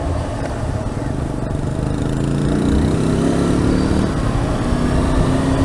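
A Kawasaki KLR motorcycle engine runs steadily nearby with a buzzing, slightly rough drone. Its pitch rises briefly midway as if lightly revved, and faint voices are heard in the background.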